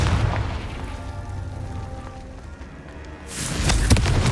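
A Confringo fire spell in Hogwarts Legacy goes off in a single booming explosion near the end, after a quieter stretch of low rumbling game ambience.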